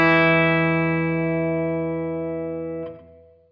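A clean electric guitar chord rings out and slowly decays, with a short, quick echo trailing it and a soft pluck near the end.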